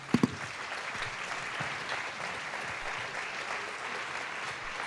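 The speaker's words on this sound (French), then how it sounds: "Je vous propose d'applaudir." Sustained audience applause after a talk on hope in a world of violence, a dense even wash of many hands clapping throughout, with a couple of sharper knocks at the very start.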